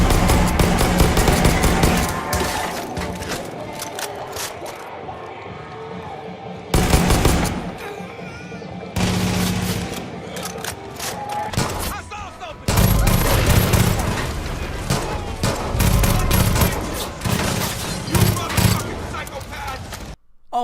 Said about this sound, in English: The guns in particular do sound good, from the soft sound of your suppressed pistol, the fast and loud sound of your rifles